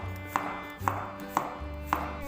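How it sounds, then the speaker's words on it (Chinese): A knife slices three garlic cloves on a cutting board for a stir-fried vegetable dish in a home kitchen, making four evenly spaced crisp taps over a low steady hum. "再准备3个蒜子，切片。"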